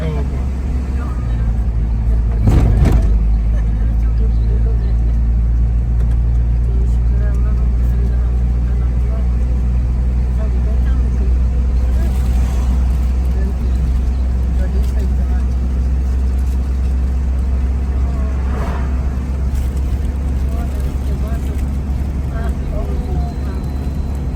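A car engine rumbles steadily while the vehicle drives the final descents past Babusar Top toward Chilas on a mountain pass road, a loud continuous drone with occasional voices in the cabin.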